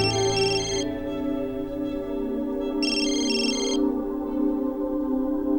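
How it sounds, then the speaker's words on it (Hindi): A phone ringtone plays in two short melodic bursts separated by a pause, loud and close, over a steady background hum. "वो रोहित का फोन है"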